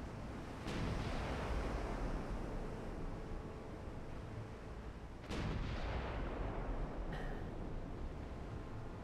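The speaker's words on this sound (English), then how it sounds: "So 12-inch guns open up first." Heavy 12-inch naval guns in Ultimate Admiral Dreadnoughts fire in booming salvos over a constant low rumble of sea and wind, with two sharp, loud reports a few seconds apart.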